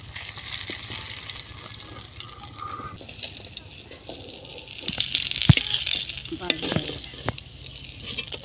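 Large mrigal fish pieces frying in a pan give off a constant crackling sizzle, with clinks and scrapes as the pieces are lifted out; the spattering grows louder and busier partway through.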